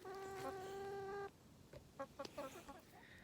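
Soft clucking from chickens close by, a drawn-out tonal call followed by several short, quiet clucks.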